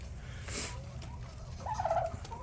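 Farm birds, a flock of about 44, calling outdoors, with a short gobbling call rising near the end over a low steady background rumble.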